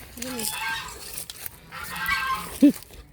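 A male goose gives a short, loud honk near the end, following fainter earlier calls, over outdoor background noise and murmured voices.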